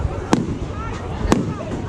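Bonfire Night fireworks going off, with two sharp loud bangs about a second apart over a constant rumbling crackle of more distant bursts. Voices can be heard faintly in the background.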